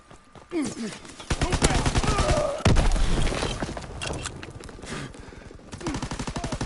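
Rapid automatic gunfire bursts and heavy single shots in a PS4 military shooter game, loud and close, with a big impact thump midway and a fast rattling burst at the end, under occasional shouting voices.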